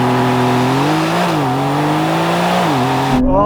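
A new Porsche 911 hybrid and an old 911 accelerate hard in a drag race, the engines loud and near with a rising, shifting howl that dips at each gear change before cutting off abruptly.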